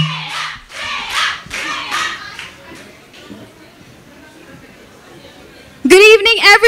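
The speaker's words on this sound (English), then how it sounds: "Please put your hands together." Clapping and cheering from a dinner-show audience welcoming a singer at a Bangalore Golf Association cultural evening, in uneven bursts that fade out over several seconds before a voice starts speaking.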